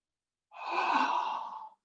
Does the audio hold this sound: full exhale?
yes